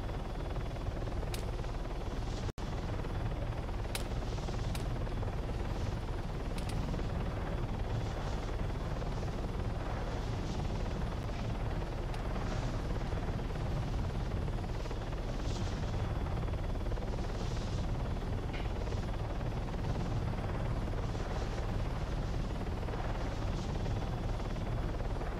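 A helicopter in the video game Arma 3, a Pawnee in King of the Hill mode, roars steadily and loudly throughout, with a few sharp impact cracks early on.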